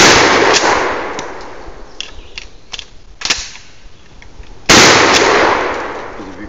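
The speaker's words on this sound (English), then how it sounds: "I was shooting for the bottle in front." Shotgun fired outdoors at a bottle, two loud, sharp blasts about four seconds apart, each trailing off into a decaying echo, with faint clicks and handling noise between the shots.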